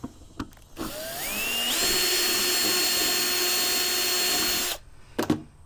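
A power drill with a 1/4-inch bit bores into a diesel tank during a diesel heater install. Its motor spins up to a loud, steady whine for about four seconds, then stops, followed by a few faint clicks and handling knocks.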